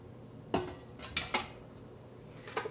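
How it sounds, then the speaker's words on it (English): A cooking pot clunks down into an Instant Pot electric pressure cooker, a few close metallic knocks and clatters spaced out over a quiet kitchen background. "Then we're gonna just set this in the Instant Pot"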